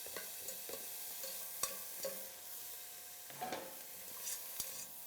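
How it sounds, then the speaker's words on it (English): Diced bacon sizzles in a hot pan as it starts to render its fat. The frying hiss is soft and steady, broken by occasional light clicks and scrapes of stirring. "Oh, there's the sizzle."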